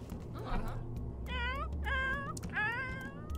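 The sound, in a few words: cat meowing in The Sims 4 video game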